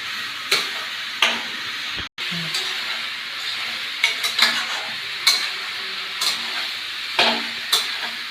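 Ash gourd and shrimp with salt and turmeric being stirred in a pan for a Bengali chal kumro chingri dish: a low sizzle under repeated scraping and clinking strokes of a utensil at a roughly regular pace, with one brief sharp knock.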